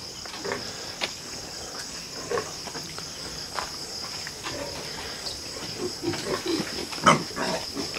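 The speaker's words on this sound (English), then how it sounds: "All these little fattening pigs." Fattening pigs in a farm pen: scattered soft grunts and snuffles with shuffling movement over a constant high insect drone, moderately near, with no talking.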